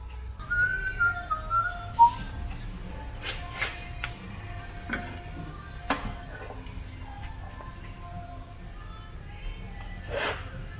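Someone whistles a light, wandering tune at moderate volume, with scattered clicks and clanks from work on a TDI engine swap in the background.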